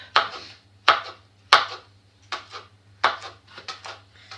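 A knife cuts through a vegetable, handled like a pepper, on a board with several sharp, separate thuds at irregular spacing, close and clear with quiet pauses between strokes.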